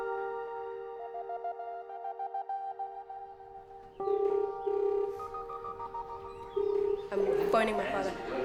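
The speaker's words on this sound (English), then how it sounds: "I'm phoning my father" A telephone call is placed: a series of steady electronic tones steps through different pitches, then repeated ringing pulses follow, moderately loud and close, with some faint background sound mixed in.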